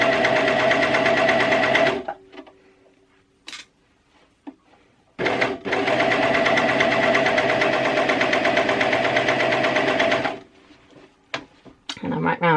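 A coverstitch sewing machine stitching fabric runs in two loud steady bursts, a short one then a longer one, with quiet handling sounds and pauses between them.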